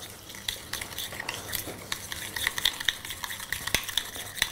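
Sugar is being mixed into egg yolks in a bowl, producing a close, busy stirring with rapid light clicks and taps of the utensil against the bowl, continuous for a few seconds without speech.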